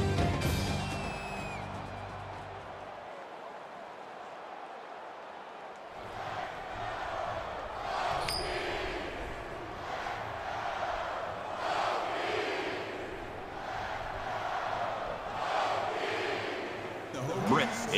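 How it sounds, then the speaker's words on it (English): A big stadium crowd roars in a college football video game, Florida State against Virginia Tech, just before kickoff. The roar rumbles steadily for most of the stretch after a brief quiet gap, with a few sharper bursts. "you can feel the thunder in the crowd as they await the start of this game"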